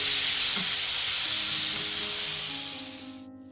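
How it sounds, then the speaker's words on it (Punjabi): Crushed garlic, ginger, onion and green chili frying in a pan for a bhindi (okra) and onion dish give a loud, steady sizzle and hiss that fades toward the end, with no voices. "ਇਹਦੇ ਵਿੱਚ ਇਹ ਕੁੱਟਿਆ ਹੋਇਆ ਲਸਣ ਅਦਰਕ ਪਿਆਜ਼ ਤੇ ਹਰੀ ਮਿਰਚ ਪਾ ਦਵਾਂਗੇ ਤੇ ਇਹਨੂੰ ਹੁਣ ਆਪਾਂ ਭੁੰਨਣਾ ਸ਼ੁਰੂ ਕਰ ਦਵਾਂਗੇ"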